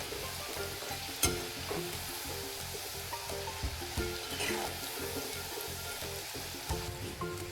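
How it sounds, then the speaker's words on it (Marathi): Cashew shankarpali, biscuit-like dough pieces, fry in oil over a low flame with a steady, dense bubbling sizzle, marked by a few soft knocks and stirs, without any voice. "असे कमी गॅसवरती मी याला छान तळून घेते खरपूसवाण्याचे."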